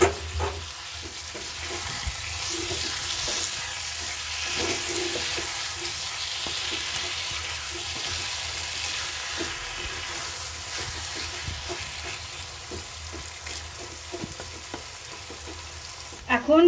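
Taro leaves frying with spices in a pan for a hilsa fish head dish: a constant close sizzle with scattered scraping and stirring clicks and a few splashy bursts, and no one speaking.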